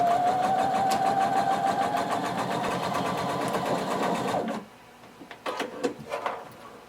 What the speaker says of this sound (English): And now you're going to sew, starting at the bottom, 5/8 of an inch all the way up